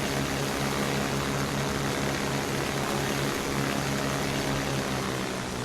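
Steady, loud drone of a Jabiru J-170D light propeller plane's engine and airscrew in Microsoft Flight Simulator 2020, a continuous broadband roar with a low harmonic hum that holds even throughout, with no talking.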